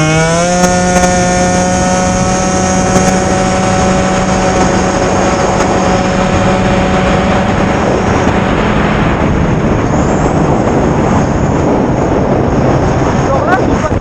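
A tuned 50cc scooter engine revving hard, a loud, buzzing two-stroke whine with rising and falling pitch, steady and close, with faint talk underneath.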